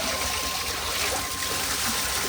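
A thin stream of water trickles from a solar-powered pump in the evening, a constant close splashing hiss with no voices.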